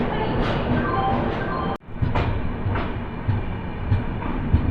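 A train pulling out of Bengaluru Central railway station makes a steady, nearby rolling rumble with soft clatter, broken by a brief dip near the two-second mark.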